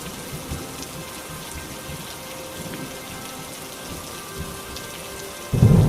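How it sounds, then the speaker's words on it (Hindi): Heavy rain in a Hindi cartoon story patters steadily and fairly quietly, then a loud rumble of thunder bursts in near the end. "बाहर बहुत तेज बारिश हो रही है।"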